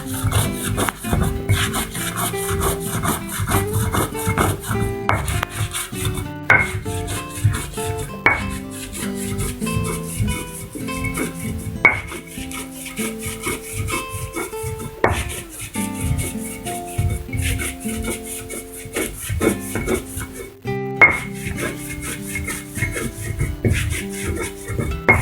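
Coconut and spices for rendang being ground by hand, a steady rhythmic scraping and rubbing that repeats close up for a long stretch, with occasional knocks.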